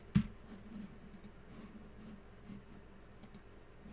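A single sharp click at the start, then faint scattered ticks and taps like keyboard keys over a quiet room hum.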